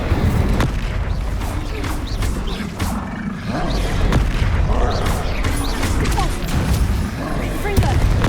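Hogwarts Legacy combat with Confringo and Incendio spells firing: dense, continuous roaring whooshes and booming fiery blasts, loud and layered with repeated sharp impacts throughout, a voice occasionally heard amid the effects.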